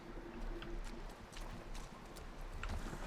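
Horse hooves clip-clop faintly in The Last of Us video game, a few soft irregular steps beneath a low ambient rumble.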